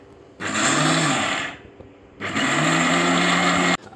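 An electric grinder grinds rice for Nepali sel roti batter in two loud whirring bursts of about a second and a half each, separated by a short pause, with a steady motor hum and no talking.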